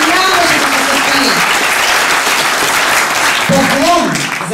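Loud, dense audience applause fills a hall at an exhibition and film screening held at a Russian cultural and information centre, continuing steadily while a voice speaks over it.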